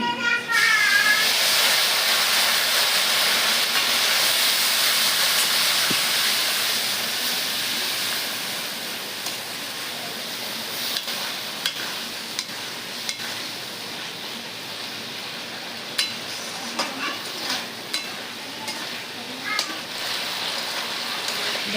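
Potatoes frying in a pan with turmeric, salt and a ground spice paste for a thin deshi magur fish curry: a steady, loud hiss of sizzling oil with scattered crackles, fading slightly as it goes on.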